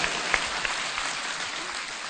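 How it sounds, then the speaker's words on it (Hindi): Audience of mothers and sisters at a public address applauding, a steady dense wash of clapping from a crowd, sustained and moderately loud throughout with no distinct individual claps. "सुंदर भारत के नौजवानों के लिए ताली बजाइए"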